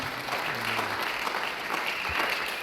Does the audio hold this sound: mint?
no